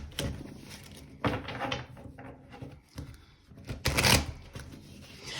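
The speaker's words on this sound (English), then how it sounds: "So let me just shuffle a little bit." A deck of tarot cards is shuffled by hand in several short, papery bursts of riffling and sliding, close to the listener, separated by brief pauses.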